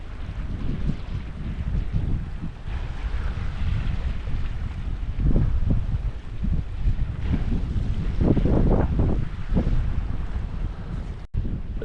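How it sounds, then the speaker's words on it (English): A morning breeze on a mountainside in the Mourne Mountains, County Down, rushes and buffets against the microphone. It keeps up a steady, loud roar with stronger gusts swelling now and then, and no voices are heard. "A little bit of a breeze this morning."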